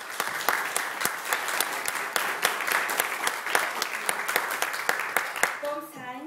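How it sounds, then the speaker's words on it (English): A town hall audience on immigrant rights claps steadily, many hands with distinct individual claps audible throughout, moderately loud, before the clapping stops and a voice begins speaking at the end. "Big round of applause"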